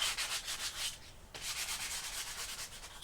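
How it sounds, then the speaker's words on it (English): Wooden floor boards being hand sanded one at a time in a micro camper RV, a steady rhythmic scratchy rubbing in repeated strokes with a brief pause midway, close and alone. "you can take these and you can sand them one at a time like this"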